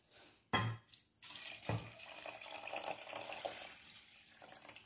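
Hot water left from boiling corn pours into a pot holding sticky rice. A couple of sharp splashes come first, then a steady close gush of liquid runs for several seconds.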